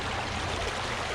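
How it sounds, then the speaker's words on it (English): Spring water pours out below a drained karst-spring-fed lake, a steady broadband rush of flowing water, fairly faint and continuous with no voices. "as you look downstream, it's just this huge outpouring of"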